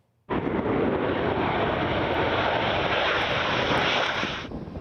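Military warplanes, including F-16 Fighting Falcon jets, fly during NATO's Air Defender exercise in Germany, a loud roaring jet engine that starts abruptly, holds steady and close for several seconds, then begins to fade.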